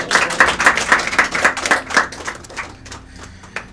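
An audience at a poetry gathering breaks into a burst of rhythmic, near clapping that grows louder and then thins to scattered claps and fades out.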